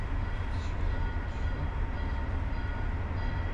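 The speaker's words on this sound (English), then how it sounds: "Oh, is there a train going to go by?" A train rolls past outdoors on a cold mountain trail, a steady broad rumble with rail clatter holding loud and even throughout, no voices over it.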